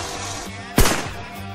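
A single loud shotgun blast cracks at a shooting range in Cheshire, close and sharp, then decays quickly, over a low steady background rumble.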